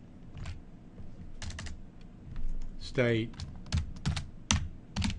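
Fingers tap on a computer keyboard while an address is typed into office software, giving irregular bursts of crisp keystrokes, close and clear, interleaved with a person talking.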